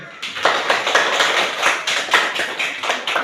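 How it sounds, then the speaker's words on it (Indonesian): A class of pupils claps in unison for a classmate, a rhythmic series of sharp, evenly spaced group claps close by. "kita berikan tepuk tangan untuk pria pun"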